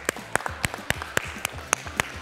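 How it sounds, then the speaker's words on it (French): A small group applauds themselves after finishing an exercise routine, a few loose claps rather than a full ovation, about nine distinct sharp hand claps in a fairly regular rhythm, close and clear. "On peut s'applaudir!"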